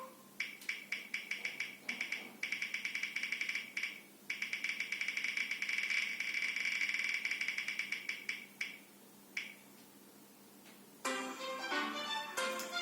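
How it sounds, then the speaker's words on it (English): A spinning wheel game loaded with book choices whirls with a fast, steady run of ticks that gradually slows and thins out, close and fairly loud, followed by a brief burst of other sound at the end. "So let's spin the wheel now."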